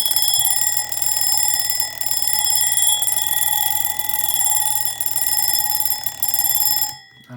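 A Westclox Style 8 Baby Ben alarm clock with a gummed-up alarm rings continuously up close, a loud, shrill metallic bell whose intensity wavers and fades in and out before stopping abruptly near the end.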